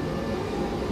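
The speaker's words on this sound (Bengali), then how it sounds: "এটা হচ্ছে ইটালির ট্রেন," Steady low rumble of an Italian high-speed train running, heard from inside a passenger coach near Venezia Mestre station, a continuous even drone with no voices.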